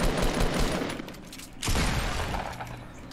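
Gunfire in the video game Fortnite, with dense bursts of shots and crackling impacts packed into a few seconds, loud and close and with no talking.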